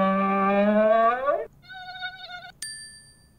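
Synthetic mosquito buzz from a children's animal-guessing game, a thin steady whine lasting about a second and a half, followed by short electronic chime tones.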